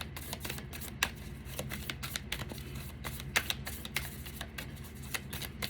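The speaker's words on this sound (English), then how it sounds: "While these cards are shuffling" Tarot deck shuffled by hand, a soft riffling patter of card flicks and rapid taps repeating close and quiet throughout, with no voice.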